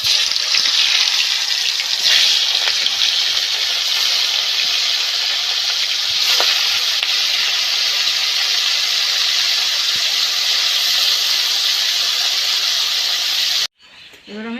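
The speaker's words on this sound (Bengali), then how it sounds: "তেল গরম হয়ে গেছে, মাছ ভেজে নেব।" Fish frying in hot mustard oil in a wok, a loud, steady broadband sizzle that hisses on without a break for most of the clip before cutting off abruptly near the end.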